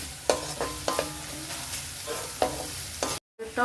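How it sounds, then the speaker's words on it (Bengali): Grated carrots frying with onions in a pan for gajar aloo dum, with a steady sizzle and regular scraping stirs of a spatula close up. "গাজরটা আমি পেঁয়াজের সাথেই ভেজে নেব একদম নরম করে"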